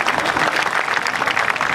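Audience clapping at an outdoor political rally in Kuala Perlis, a dense, steady wash of many hands that stays loud throughout with no talk over it.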